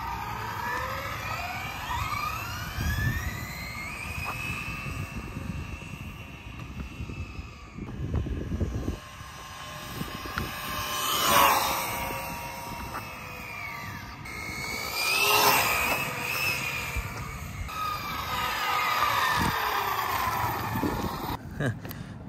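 Maverick QuantumR 1/8-scale RC car running on 4S batteries, its electric motor whining and rising and falling in pitch as it makes repeated passes, near then receding, over steady background noise.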